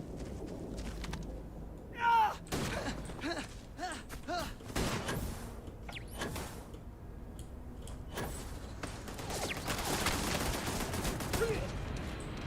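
Gunfire in the video game Starfield rings out in a fast series of sharp, loud shots, some in rapid bursts, mixed with other game effects and a voice talking over parts of the action.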